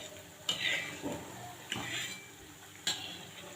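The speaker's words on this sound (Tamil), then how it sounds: "இப்போ கிளறி விடுங்க. மெதுவாக பொறுமையாக செய்யுங்க." Biscuit dough stirred slowly in a pan over low heat for crispy maida biscuits: a few scraping strokes of a spoon against metal, spaced apart at moderate volume over a quiet background.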